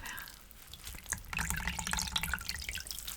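Water drips and trickles close to a microphone in a quiet indoor ASMR setting, with soft irregular plinks over a low watery wash that grows a little fuller partway through.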